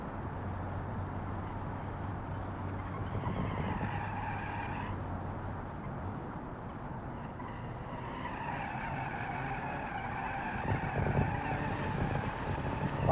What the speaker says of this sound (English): Wow, that's an easy car to drift.